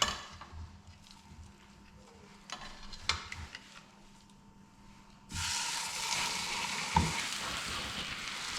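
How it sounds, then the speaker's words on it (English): Meat being browned in hot cooking oil: after a quiet stretch with a few light clinks, a steady close sizzle and crackle starts suddenly and carries on to the end. "we're going to add our meat and just brown it off"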